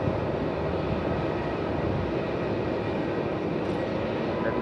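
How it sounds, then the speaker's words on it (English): A Jetstar airliner at Melbourne Airport moves off toward the cross runway, giving a loud, steady, broadband jet engine roar that stays constant throughout at close range. "So off goes the Jaffa, likely heading out off runway 27"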